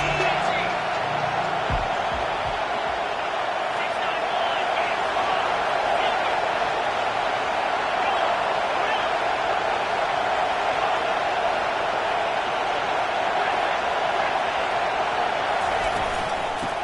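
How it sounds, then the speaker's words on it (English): Dense, roaring crowd noise from a packed stadium at a college football game, a steady loud wash throughout with a commentator talking over it. "This crowd is tearing the lid off this place."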